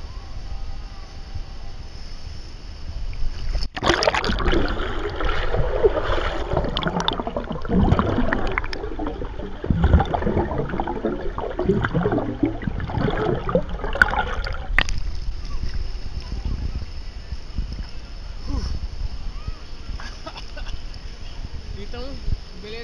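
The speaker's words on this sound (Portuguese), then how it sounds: "Vou dar um mergulho e vamos ver como ela se comporta" Mini SQ11 camera in a waterproof case plunged underwater, giving a muffled rush of water, bubbling and splashing that begins abruptly, fills about ten seconds, then drops back to a quieter submerged hiss.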